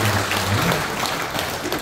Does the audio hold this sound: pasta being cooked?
no